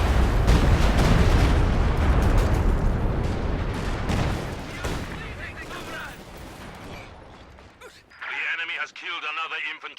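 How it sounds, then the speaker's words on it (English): Rocket artillery barrages in Company of Heroes 2 pound down in a dense, loud roll of overlapping booms and blasts, then thin out into scattered impacts and rumbling mechanisms, with a voice speaking over the battle. "And rocket artillery coming in somewhere."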